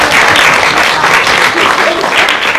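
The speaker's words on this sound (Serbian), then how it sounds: "Aplauz jedan." Loud, sustained audience applause fills a humanitarian event held by an association of persons with disabilities, with dense continuous clapping throughout.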